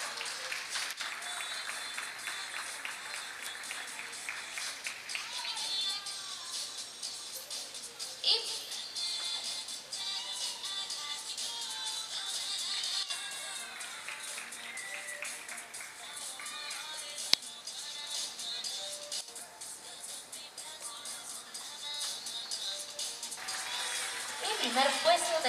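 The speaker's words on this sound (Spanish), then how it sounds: "Un fuerte aplauso." An audience at a national sport dance championship applauds, with steady, moderate clapping mixed with crowd murmur and voices.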